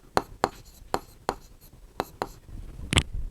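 Chalk or pen tapping and scratching on a board during a Class 8 maths lesson, a run of sharp separate strokes at an uneven rhythm, close and fairly loud, with a faint murmur underneath.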